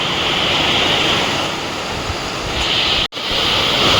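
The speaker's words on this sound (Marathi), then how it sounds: "लय जोराचा पाऊस आला आहे." Heavy monsoon rain pours down in a steady, loud, dense wash of noise, unbroken apart from one brief cut near the end, with no voices.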